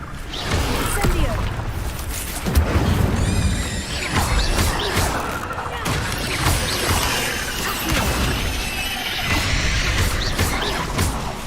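Fire spells and combat effects in Hogwarts Legacy crackle and whoosh continuously amid clashing impacts and mechanical clatter, dense and loud, with a player's voice talking over the game sounds.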